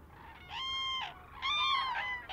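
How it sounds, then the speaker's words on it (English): Loud, close trumpeting calls of cranes gathered at a lagoon stopover, two long harmonic bursts in quick succession against faint background noise. "the birds do call loudly when they sight the lagoon"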